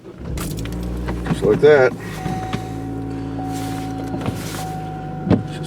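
Car engine cranks over with a short starter whine on a cold, flurry-dusted morning around 35 degrees, clutch held in, then settles into a steady, close idle hum; a brief spoken remark comes near the start.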